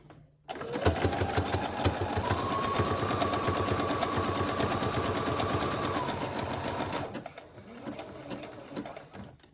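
Sewing machine stitching down the seams of pieced fabric scraps, a steady close rapid mechanical whir running for several seconds before slowing, then brief softer stitching.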